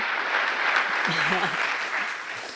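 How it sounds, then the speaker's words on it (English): An audience applauds at a youth scholarship award event, steady continuous clapping filling the room, with a short spoken voice rising briefly beneath the applause. "So, another quick round of applause for Ross and Ibn"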